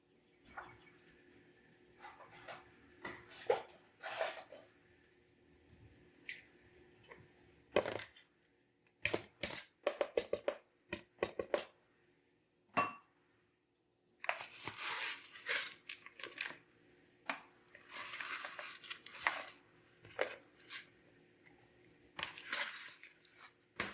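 Broccoli salad ingredients get tossed and stirred together in a bowl, giving irregular bursts of crunchy rustling and clinking scrapes of a utensil against the bowl, with short pauses between strokes.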